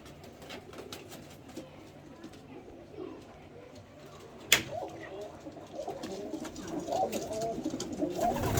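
Pigeons coo softly in a steady murmur in a loft, with bird chatter and a brief sharp knock partway through, the cooing growing a little louder toward the end.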